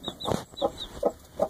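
Close, soft clucking from broody hens near a newly hatched chick comes in four short, evenly spaced bursts over a faint background chirp.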